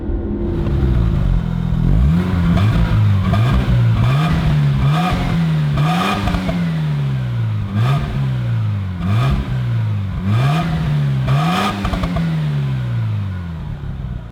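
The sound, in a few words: Mazda RX-7 rotary engine car driving and revving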